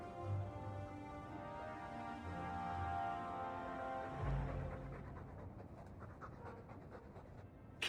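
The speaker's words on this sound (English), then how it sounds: "All that noisy dog breath, day in, day out, make him stop." Steady, breathy panting from a dog in the video game Dragon Age 2, continuous and fairly close, running for several seconds without pause against a soft background.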